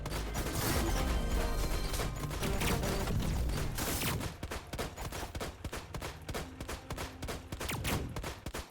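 Big cannon in the robot RTS bullet-heaven game Saikyo Robots, firing on units in a messy battle: dense crackling volleys and crashes for about four seconds, then sharper, sparser clicking shots and mechanical rattles, all fairly faint.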